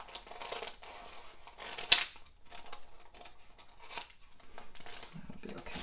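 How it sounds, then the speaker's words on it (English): Scissors snip through paper while a junk journal signature is cut halfway along each side, with a sharp close cut near the start, then soft rustling and crinkling as the pages are handled. "I'm just going to cut this about halfway on each side"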